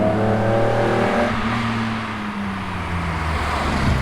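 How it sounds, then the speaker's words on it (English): Car engine fitted with triple Weber carburettors, a deep throaty purr that idles steadily and then dips in pitch as the revs fall, close and continuous with no talk. "we got triple Webers installed, which gives it that really nice, deep, throaty kind of purr to the car."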